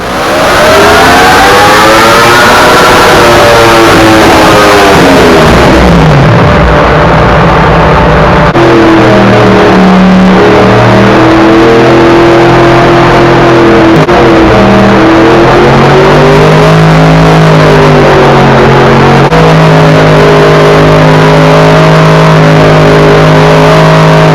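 A 2023 Yamaha R1M motorcycle engine on a dyno during ECU tuning under load, roaring loud and close through sustained high revs with rising and falling pitch sweeps and a few brief throttle dips, no speech.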